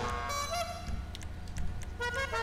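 Several short electronic car horn honks in Grand Theft Auto V Online, in bursts with gaps between them, over a steady low engine hum.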